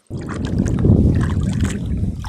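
Paddle strokes and water sloshing around a kayak on a river in blustery early spring, a steady close wash of splashing and gurgling with wind across the whole stretch, no voices.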